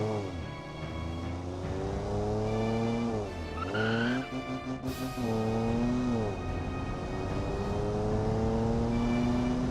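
A Garderobe car revs hard past its red line in the Automation game, its engine note screaming and rising with a brief dip and recovery midway, alongside tire squeal, loud and continuous throughout.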